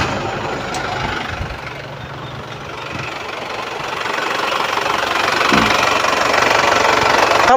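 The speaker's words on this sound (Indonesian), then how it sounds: "Kalau suara mesin, menurut saya sih kondisinya masih halus, masih oke, masih aman" A 2000 Isuzu Panther Royal with its 2.5 diesel engine runs at idle, a steady close knocking rumble that grows slightly louder and rougher toward the end, with no voices.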